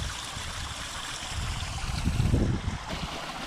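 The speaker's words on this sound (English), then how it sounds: "Now we're going to turn on the pond pump and get it all mixed in." Alpine Cyclone pond pump circulating water through a small backyard waterfall pond, a steady close splashing and trickling wash that swells briefly midway.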